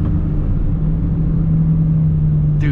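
2007 Ford Mustang GT V8 rumbling steadily on a backroad, a low continuous engine drone that holds nearly constant pitch with a faint rise near the end, close and loud with no talk.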